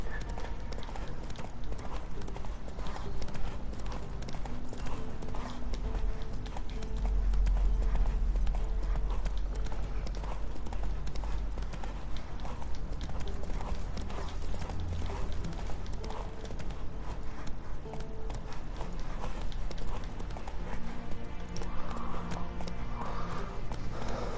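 Roach, a horse in The Witcher 3: Wild Hunt, galloping with a steady rapid clip-clop of hooves over ambient game sound, close and continuous, with no one talking.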